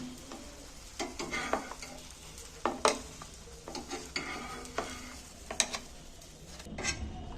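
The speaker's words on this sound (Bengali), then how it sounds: "এবার বাকিগুলো আর একবার আমি ভেজে নিচ্ছি" Food sizzles in a pan, with repeated scrapes and clinks of a utensil stirring against the metal. There is no talking.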